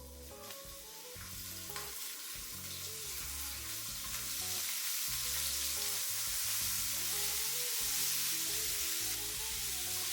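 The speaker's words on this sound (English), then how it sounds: "Place the shrimp into the pan." Shrimp sautéing in hot oil over high heat in a pan, a loud continuous sizzle that builds and holds steady, with no voices.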